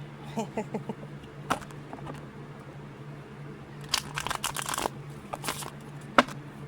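Playing cards being shuffled nearby in short riffling bursts with crisp snaps between, over a low steady hum.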